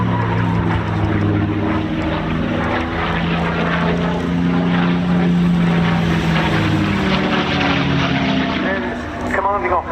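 A North American Mustang propeller fighter drones overhead at an air show, its engine a loud sustained hum with shifting pitch throughout, with a voice talking over it.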